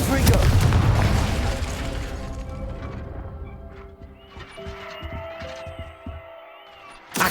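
A Confringo explosion spell from Hogwarts Legacy opens with a loud, close booming blast. A rumbling tail fades away, leaving lighter game sounds and a few faint clicks behind it.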